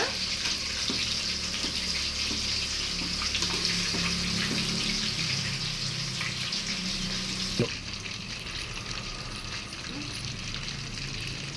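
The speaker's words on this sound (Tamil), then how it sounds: "இப்போ கொஞ்சம் கொஞ்சமாக சிக்கன் போட்டு நம்ம பொரிச்சு எடுத்துக்கலாம்" Chicken 65 pieces deep frying in hot oil, a steady dense bubbling sizzle that runs unbroken and fairly loud throughout, thinning slightly toward the end.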